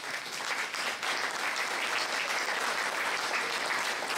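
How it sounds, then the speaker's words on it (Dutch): Applause from a crowd at a giant-figure baptism celebration in Steendorp, a dense, even roar of clapping that holds steady and moderately loud from start to finish. "een applaus voor jullie zelf"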